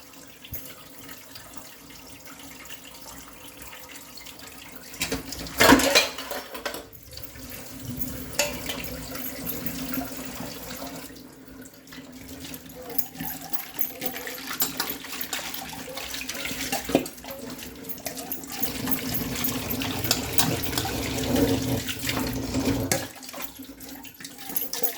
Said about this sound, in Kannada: ಎಲ್ಲನೂ ಸೋಪಾಗಿ ನೀಟಾಗಿ ನೀರಲ್ಲಿ ತೊಳಿತಾ ಇದ್ದೀನಿ